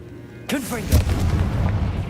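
A Confringo fire spell blasts in a Harry Potter video game: a sudden loud boom with a sweeping whoosh, then a rumbling burning tail, while a voice speaks over the start.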